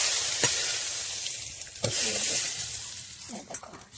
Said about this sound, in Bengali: এই যে আমার সব মাছগুলো ভাজা হয়ে গেছে দেখো